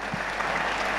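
Audience applause during an Islamic lecture, a dense, steady wash of many hands clapping, loud and sustained through the whole brief moment.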